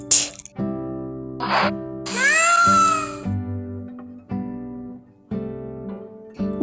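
Several meows from a cat, some short and one long and drawn out, mixed with musical backing tones throughout a children's alphabet song.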